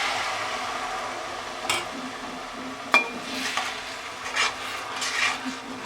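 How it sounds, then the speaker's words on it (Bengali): A spoon stirs caramelised sugar with a splash of milk in a pan for Bengali Gobindobhog rice payesh. Soft scraping and gentle sizzling sit close by, broken by a sharp clink or two against the metal. "এবার সুন্দর করে এভাবে নেড়ে নেড়ে আমি চিনিটা মিশিয়ে নেব, ক্যারামেলটা।"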